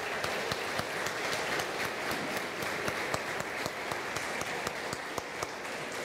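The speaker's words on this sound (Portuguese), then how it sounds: "vamos dar uma salva de palmas ao pastor Cleito, à Igreja Batista da Parquelândia" Sustained applause from a church congregation at a Baptist church, steady, dense clapping filling the room for several seconds without speech.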